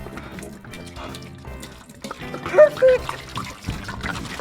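Water trickles and pours into the tank of a toy fire truck, a light running splash with brief louder gushes partway through, while an excited voice speaks over it.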